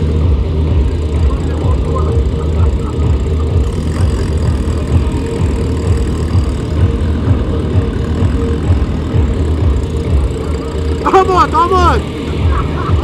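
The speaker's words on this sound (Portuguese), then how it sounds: "Olha a minha moto lá!" A motorcycle engine rumbles loud and steady at an underground car and motorcycle meet in São Paulo, with excited voices shouting close by near the end.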